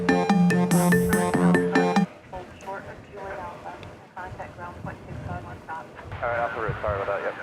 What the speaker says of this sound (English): FaceTime video.